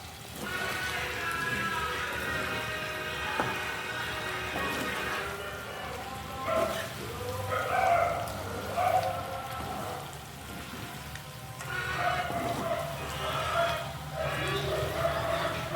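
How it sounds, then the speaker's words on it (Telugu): Chicken pieces coated in masala frying in a pan with curry leaves, giving a continuous close sizzle and spatter, with tonal clinks and stirring sounds rising now and then over the crackle. "ఇది బాగా ఇలా ఫ్రై చేసేయాలి."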